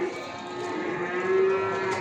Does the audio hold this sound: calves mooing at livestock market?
yes